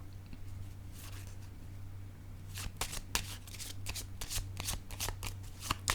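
A deck of tarot cards is shuffled close by during a reading, first some faint riffles over a steady low hum, then a dense run of crisp, rapid card flicks.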